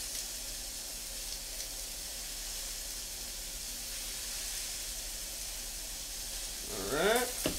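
Cod fillets sauté in a pan with dried oregano and paprika, giving a steady, soft sizzle throughout, with a brief louder burst of stirring or scraping near the end.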